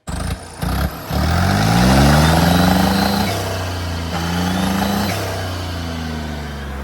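An engine revs hard to high RPM, rising harmonic whines climbing in pitch, falling back and surging again over a deep steady drone, loud and close with no talk.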